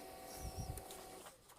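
Steady motor whir with a few soft clicks from an HP LaserJet MFP M234dwe laser printer priming its toner, close and quiet, with no voices.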